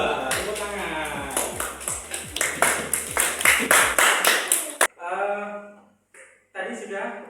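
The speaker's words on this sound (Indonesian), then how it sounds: "Tepuk tangan." A classroom of students claps in a burst of sharp, irregular claps for a few seconds, then stops abruptly, followed by brief talk.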